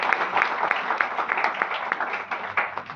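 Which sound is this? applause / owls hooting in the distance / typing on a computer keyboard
applause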